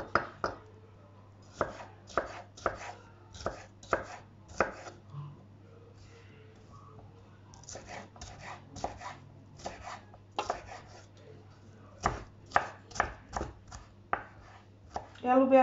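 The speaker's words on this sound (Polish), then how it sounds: "I teraz też kroję sobie w paseczki" A knife cuts bell pepper into strips and cubes on a board, sharp close chops in quick bursts of several strokes with short pauses between runs.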